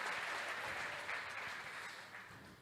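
Congregation at a church service applauding, a steady dense wash of many hands clapping that holds for the whole stretch and eases slightly toward the end, with no voices over it.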